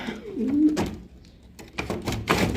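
Soft, low pigeon cooing nearby, a few throaty rolling calls with rustling and faint background noise between them.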